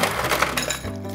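Ice cubes clinking and rattling into a cocktail glass while a sex on the beach drink is being made, a short burst of close, bright clatter that settles after about a second.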